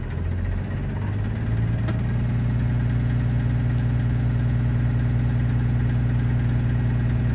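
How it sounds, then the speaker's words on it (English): A truck's diesel engine idling steadily while its air brake system builds pressure toward the governor cutoff. It is a loud, constant low rumble with a steady vibrating drone and no talking. "we're going to let the air build back up and listen for our governor cutoff"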